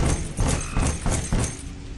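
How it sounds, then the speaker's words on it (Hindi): Someone knocks on a door during a rainy night near a jungle graveyard: four heavy, evenly spaced thuds sound close over a steady hiss of rain. "हमने थोड़ा डरते हुए दरवाजा खटखटाया।"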